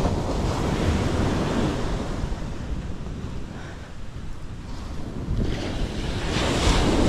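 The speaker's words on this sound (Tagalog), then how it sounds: "Mas malaki pa pala dito ang alon kaysa doon sa Bukana." Ocean waves roll and break continuously with wind buffeting the microphone, the surf swelling louder toward the end.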